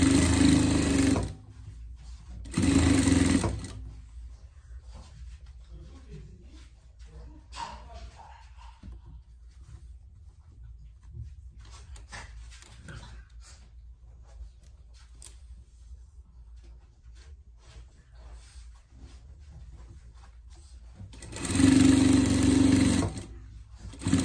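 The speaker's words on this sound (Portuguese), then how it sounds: "Já aproveitamos passar uma costura de segurança." A sewing machine runs a safety seam on a pet dungaree: two loud bursts of fast, even mechanical stitching, one near the start and one near the end, with a quiet stretch of faint handling noise between them.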